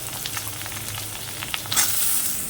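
Potatoes drop into hot oil already holding sizzling ginger, green chili and curry leaves, a steady frying hiss that swells louder near the end, with a few light scrapes and clinks; no one talks.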